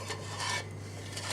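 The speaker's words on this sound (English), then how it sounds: "It still sounds a little bit crunchy on the bottom" Soft, gritty scraping of undissolved sugar grains being stirred against the bottom of a pan while making spiced apple and quince jelly, with a low steady hum underneath.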